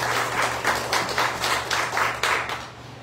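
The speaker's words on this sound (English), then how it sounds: "we want to give a round of applause to one of our ancestors" A church congregation applauds in a steady round of clapping that comes in rhythmic pulses, moderately loud and sustained, with no voices over it.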